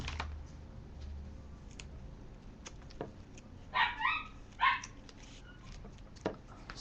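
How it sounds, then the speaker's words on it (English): Indoor dogs give two short bursts of barking partway through, fairly close, with scattered clicks and taps from crafting work around them and no talking. "Sorry about the dogs."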